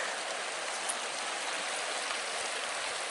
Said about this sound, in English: But what we do have is all this acid mine drainage,